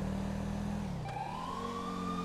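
Police car siren in GTA 5 with the LSPDFR mod, a wailing tone that swells up and sweeps upward over a low engine drone in traffic, fairly loud and close.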